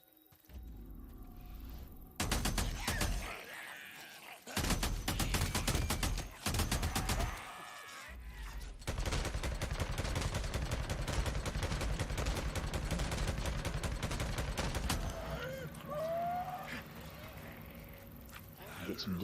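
Gunfire from the MG45 machine gun in the video game Days Gone: loud sustained bursts of automatic fire that cut in and out early, then run almost continuously, alongside game noise and occasional talk.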